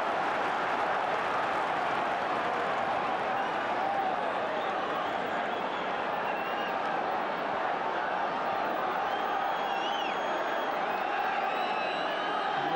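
Sheffield Wednesday supporters at a football match against Everton keep up a dense, continuous roar throughout, with scattered whistles and shouts rising out of the broad crowd noise.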